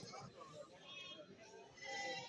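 Goats bleating at a busy goat market in Kerala, calls rising and falling amid crowd chatter and people talking close by.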